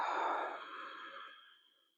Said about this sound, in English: Now, cue that breath, Darth Vader breath.